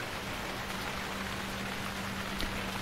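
Steady rain falls in Stranded Deep, an even, dense hiss of drops with a faint low hum beneath, unbroken and without voices.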